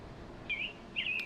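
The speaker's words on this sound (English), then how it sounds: "Oh, it's a bird." A small bird gives two short, bright chirps about half a second apart, clear and alone against a quiet background.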